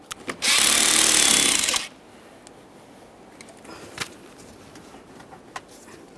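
A power driver fitted with a 7mm socket tightens a hose clamp on a tube of a 2007-2013 Acura MDX 3.7L V6 in a short, loud whirring burst of about a second, followed by faint clicks and quiet handling.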